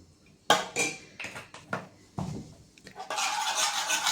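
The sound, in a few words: mixing Persian pizza dough in a bowl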